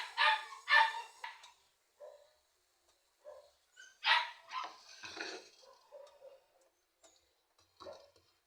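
Pet dogs bark in scattered sharp bursts, some close and loud, others fainter and further off. Quiet gaps separate the barks, and no talk is heard.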